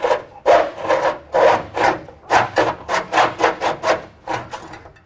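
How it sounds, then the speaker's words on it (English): Handsaw cutting through a car frame rail brace where it mounts to the chassis on a Mustang or Falcon, a close, loud run of rhythmic rasping back-and-forth strokes, about a dozen in quick succession. "cut the brace where it mounts to the chassis"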